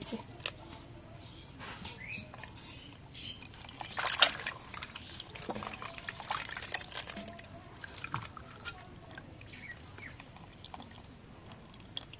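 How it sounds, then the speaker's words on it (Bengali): Soaked soybean chunks being rinsed by hand in water in a home kitchen, with soft trickling, dribbling and sloshing sounds that stay fairly quiet and continuous throughout. "এখন সয়াবিন বিনগুলো ধুয়ে নিই"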